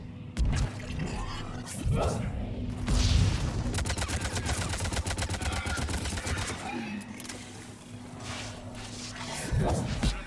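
Gunfire crackles through a firefight in Mass Effect 3, with dense rapid bursts and shots layered over a continuous mix of game sound and speaking voices.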